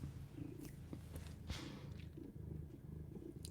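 A cat purrs close by, a faint, low, continuous rumbling with soft rustles and small clicks over it, and no talking.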